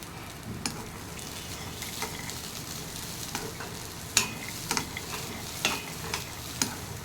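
Peanuts roast in ghee and rattle in a pan over low heat, with irregular scraping stirs and soft sizzling crackles; close and fairly quiet, no talking.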